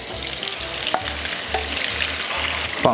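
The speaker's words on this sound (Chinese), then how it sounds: "锅里放入 butter 黄油， 把切好丁的番茄放入，" Diced tomatoes fry in butter in a pan, giving a steady close sizzle broken by a few stirring scrapes, with no talk.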